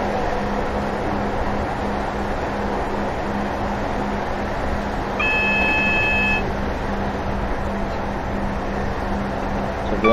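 A warning beep sounds in the cab of a Train Simulator 2018 train on the Cardiff Central to Taunton service: one steady tone lasting about a second, sitting above a constant low engine rumble and hum.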